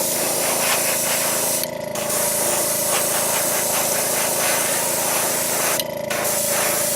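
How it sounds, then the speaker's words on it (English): A spray can lays a white coat over a jerkbait fishing lure being repainted, a loud continuous close hiss broken by two brief pauses between passes. "We're going to give this thing a complete coating of white"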